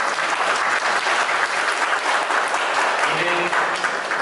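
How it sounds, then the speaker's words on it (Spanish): A congregation at a festive Catholic Mass for the Virgin of Candelaria bursts into loud, dense applause, a steady roar of many clapping hands with a faint background voice murmuring beneath it. "Y otro fuerte aplauso para ella"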